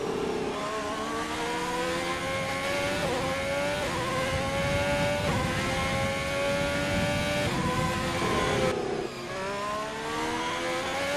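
A Mercedes Formula 1 car engine screams through the last lap of a Grand Prix in an F1 video game, loud and continuous, its pitch climbing with each gear and dropping at repeated shifts.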